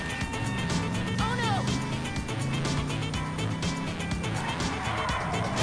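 A car drives in the video game GTA 5 with a steady engine drone and occasional tire noise, while a person talks over it throughout.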